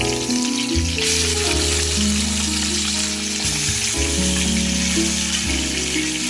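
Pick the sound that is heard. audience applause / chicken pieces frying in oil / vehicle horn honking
chicken pieces frying in oil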